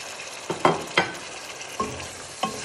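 Tomatoes frying with spices in a pot for degi chana pulao, a continuous sizzle broken by several sharp scraping stirs of a spoon against the pan, close and fairly loud.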